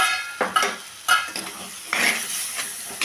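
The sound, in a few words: stirring jackfruit seed biryani masala in a pot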